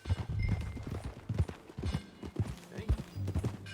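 Horse hooves clip-clop in an irregular rhythm in Red Dead Redemption 2, with game ambience and a low musical bed, fairly close and moderately loud.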